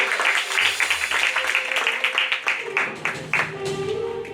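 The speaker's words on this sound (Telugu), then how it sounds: "దయచేసి ఆయన వస్తుండగా చప్పట్లు కొట్టు ఆయన ఆహ్వానిద్దాం" A church congregation at a Friday service claps to welcome a pastor to the stage, a steady run of close, fairly loud hand claps mixed with voices over music.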